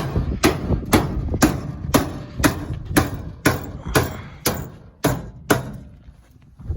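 Hard metallic hammer blows strike the body of a 1975 Jeep Cherokee in a steady rhythm, about a dozen sharp, close, ringing impacts.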